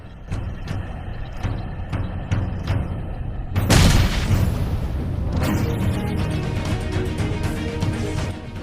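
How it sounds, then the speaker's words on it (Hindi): Grenade blast in a battle-royale shooter game, a loud broadband boom bursting out mid-clip over steady game ambience and sharp gunfire-like ticks, then a lingering rumble. "ये वाला ग्रेनेड जरा चेक करो"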